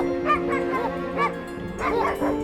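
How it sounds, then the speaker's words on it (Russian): Dogs bark outside a rural house, a few loud yapping barks with whimpering tones at a moderate distance, mixed with background voices. "собаки лают"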